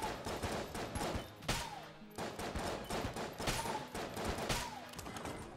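Starting-pistol fire in the dungeon-crawler game Enter the Gungeon, rapid repeated shots crackling in dense bursts over busy game music and effects.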